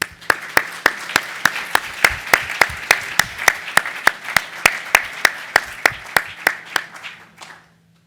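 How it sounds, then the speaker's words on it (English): Slow, evenly spaced claps ring out for three award winners being called to the podium, sharp distinct hand claps in a steady rhythm that soften and stop near the end, with an echoey room behind them. "please join me in a round of applause"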